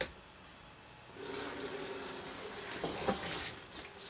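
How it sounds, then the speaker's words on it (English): Tap water running into a container for a sous vide water bath, a steady rushing pour that starts abruptly after a quiet moment and continues with splashing, close by and without talk. "let's fill this up with some water"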